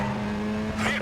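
A car in Need for Speed Most Wanted roars past at speed, a brief, loud, steady engine whine with a swell of noise as it blows by.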